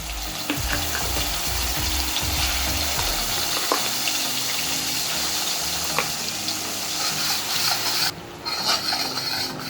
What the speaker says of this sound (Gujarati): તેલ ગરમ થયું છે। હવે આપણે એમાં 1 ટીસ્પૂન જીરું, 1/2 ટીસ્પૂન હિંગ, ત્યારબાદ એમાં આપણે ગ્રાઇન્ડ કરેલો મસાલો નાખવાનો છે।